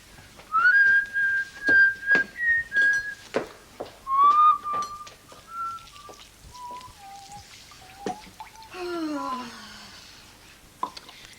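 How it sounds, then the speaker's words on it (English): Someone whistles a slow, wandering tune close up, held notes sliding between pitches, with a few clicks and a brief lower warble near the end. "OK, go ahead, whistle."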